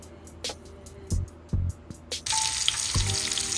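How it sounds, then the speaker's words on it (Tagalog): Garlic and ginger sautéing in a pan for a Filipino dish of bottle gourd with sardines, a few clinks and knocks early on, then a steady close sizzle filling the rest. "Ayan po, ginigisa muna natin ang ating bawang at ang ating luya po."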